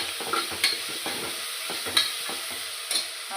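Tomatoes and ginger garlic paste frying in a pan are stirred with a utensil, giving rhythmic scraping strokes and soft clinks over a low, steady sizzle, heard close and alone.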